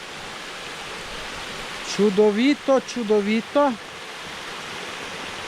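A wild mountain stream near Črmošnjice in Bela Krajina rushes steadily as a constant broadband hiss. Someone speaks briefly over the flowing water.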